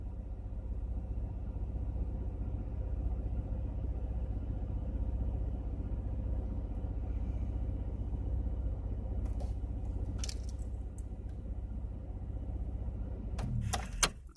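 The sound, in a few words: 2000 Chevrolet Impala engine idling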